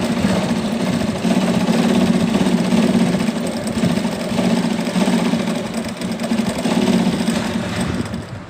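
A sewing machine stitches pleats into a suit with lace trim in a continuous rapid mechanical chatter, loud and close, with slight surges in speed.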